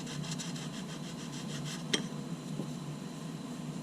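Sandpaper of 80 grit rubs back and forth over a profiled composite fin in quick repeated strokes, a close raspy scraping with one sharp tap near the middle; no talking.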